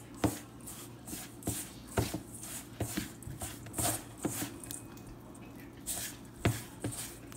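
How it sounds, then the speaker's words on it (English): Hands knead milk-moistened gulab jamun dough, making soft, irregular squishing and slapping sounds with sharp pats among them, close and fairly quiet. "And knead it with your hands."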